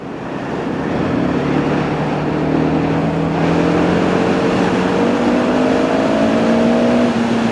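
KTM 690 Duke motorcycle accelerating under load, a loud, close engine note climbing steadily in pitch through the gear with constant wind rush and no speech.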